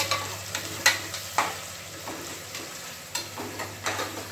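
Onions with grapes sizzle in a pot for biryani, a steady frying hiss broken by repeated scraping stirs of a spoon against the metal, close and fairly quiet with no talking.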